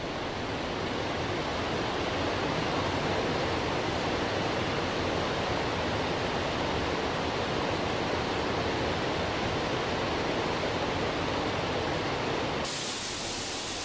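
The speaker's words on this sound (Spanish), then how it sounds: "En lugares como las conocidas cascadas de la cola de caballo o las gradas de Soaso, el ensordecedor estruendo de las aguas bravas llena el ambiente sonoro" Roaring water at the Cola de Caballo waterfalls in Ordesa pours in a dense, loud, unbroken rush of white noise, steady throughout with no voices.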